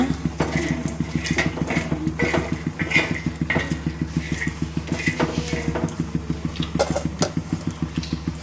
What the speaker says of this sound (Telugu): ఈ విధంగానే వేయించుకోవాలండి మనం కలబెడుతూ ఉండాలండి